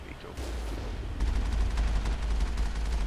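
Rapid bursts of gunfire in the video game Mass Effect, a cluster of sharp shots in quick succession over low rumbling background.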